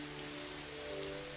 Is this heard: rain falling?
yes